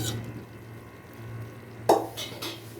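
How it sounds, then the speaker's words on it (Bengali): Quiet low kitchen hum gives way to a sudden short sizzle and clatter as ghee-fried onion tempering is added to a pot of beef khichuri, followed by softer stirring sounds. "এই যে এখন আমি বাগারটা দিয়ে দিব।"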